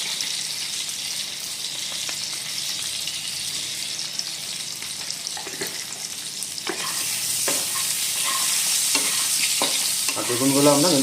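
Eggplant pieces, salted and turmeric-coated, fry in oil as part of cooking a hilsa fish and eggplant curry, giving a steady bright sizzle that grows louder partway through, with intermittent stirring clatter and no talking.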